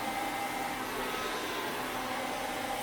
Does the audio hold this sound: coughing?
no